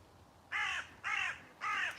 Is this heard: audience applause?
no